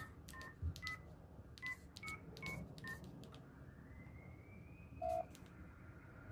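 Telephone keypad tones beep out a number, several short dialing beeps in an uneven rhythm, followed by a steadier line tone, fairly clear with no talking.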